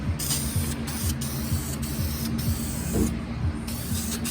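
An aerosol can sprays a light coat of primer over glazing on a 1990 Mustang GT quarter window repair, producing a steady close hiss punctuated by brief pauses as the nozzle is released.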